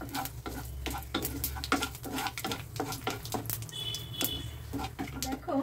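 Whole spices, bay leaf, dried red chilli, cumin seeds, cardamom and cinnamon, crackling in hot oil for a tempering, with quick pops and scraping stirs over a low hum, fairly quiet overall.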